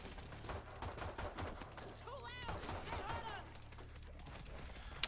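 Unsilenced gunfire in a video game rings out as rapid, sharp bursts of shots with clattering impacts, loud and busy throughout, while voices talk over the action.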